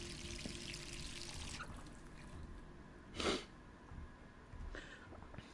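A tap runs in a bathroom in Resident Evil 3. The steady pouring splash is fairly loud for the first second and a half, then cuts off, leaving quiet room ambience and a soft sniff-like sound.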